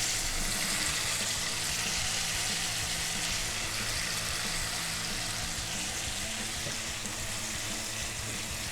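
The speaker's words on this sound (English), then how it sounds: "Now we're ready to add the leek. This is frying beautifully." Sliced leek frying in a pan for an Italian-style pork belly dish gives a steady, close, continuous sizzle and crackle with no talk.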